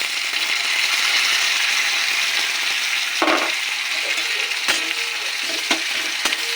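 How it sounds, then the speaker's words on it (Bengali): Ginger, chili and garlic paste sizzles in hot oil with chopped onion, a close, continuous frying hiss broken by a few sharp clicks and scrapes of stirring, with no talking. "পেঁয়াজ কুচি ভাজা হয়ে গেছে, এবার দিয়ে দেবো আদা লঙ্কা"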